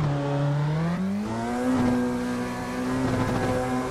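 A 1266-horsepower Nissan R35 GT-R in a racing simulator accelerates hard in first gear, its engine note climbing steadily in a loud, close, continuous rev with no talk.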